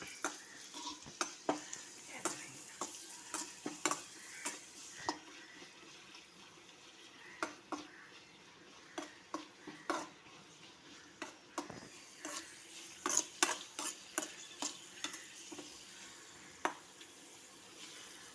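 Pappadam frying in hot coconut oil, a low steady bubbling sizzle punctuated by repeated sharp clicks and taps of a spatula against the pan in a loose rhythm, close but fairly quiet, no talk.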